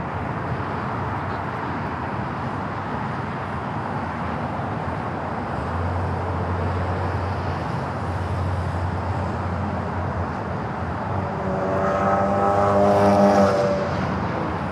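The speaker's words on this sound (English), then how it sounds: "Flight 453 heading back to Munich in this A380 Super." An Airbus A380 departs LAX for Munich, its jet engines a broad, steady roar that builds toward the end as the aircraft powers away, heard from a distance outdoors.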